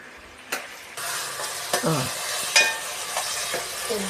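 Tomatoes stirred and frying in oil for a pickle, a soft close sizzle with a few scraping strokes of a spoon against the pan, fairly quiet and without voices.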